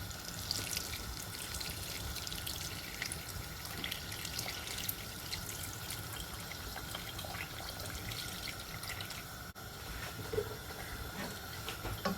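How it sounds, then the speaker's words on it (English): Water from a kettle pours steadily into a pot of cooking jollof rice in a continuous splashing stream, fairly faint and unbroken, with no voices. "I'm adding in some water from the kettle"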